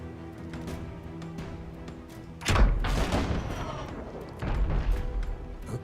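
Ship cannons firing in the game Abandon Ship: a sudden loud booming blast with a rumbling tail, then a second weaker volley, over a low game soundtrack with no talk.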